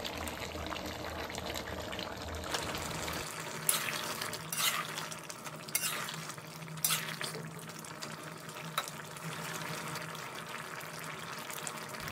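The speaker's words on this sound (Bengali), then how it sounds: "এবার আমি দিয়ে দেব ভেজে রাখা চিংড়ি মাছ।" Shrimp and pointed gourd fry in a pan, giving a steady moderate sizzle with occasional stirring clinks and spatula scrapes against the metal.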